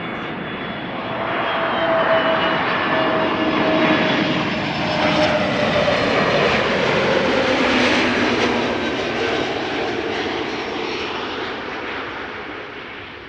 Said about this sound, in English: KLM 321 Neo, flight 1002, arriving from London Heathrow.